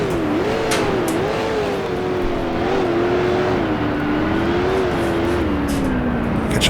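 A 1966 Can-Am race car in the video game Grand Prix Legends revs loud and close, its engine pitch rising and falling smoothly through a single continuous run.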